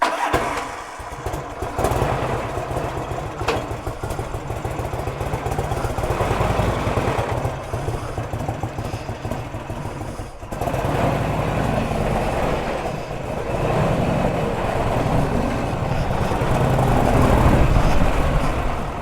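A 1984 Harley-Davidson FLT Tour Glide motorcycle rides along with a steady, loud engine drone that briefly dips near the middle as it shifts up through the gears. No one speaks.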